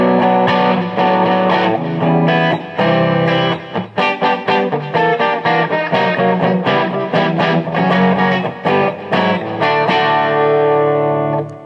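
Electric guitar through a Line 6 Spider III 75 amp playing chords and picked notes, drenched in delay and reverb so each strum trails off into echoing repeats; loud and continuous, no voices.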